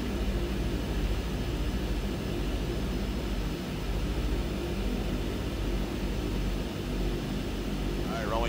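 Twin Otter turboprop engines idling and rumbling steadily while the plane taxis out to the runway, a constant dense broadband drone near and loud throughout, with no gaps.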